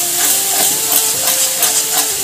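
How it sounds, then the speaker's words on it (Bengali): Ground cauliflower leaf paste fries in hot oil, giving a steady close hiss and sizzle with soft crackling, plus a faint tonal hum running underneath throughout. "পাতাটা আমি এবার তেলের মধ্যে ভালো করে ভেজে নেব।"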